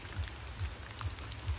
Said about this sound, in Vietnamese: Mưa rồi. Mưa nhìn xuống dũng mới thấy mưa.